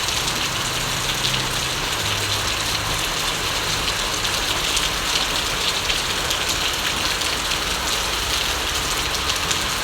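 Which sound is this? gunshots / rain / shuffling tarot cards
rain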